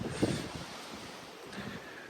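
Wind gusting across a beach at Cape Tribulation in Queensland, a soft rushing roar with muffled buffeting on the microphone and a faint wash of surf behind it, gusting louder near the start.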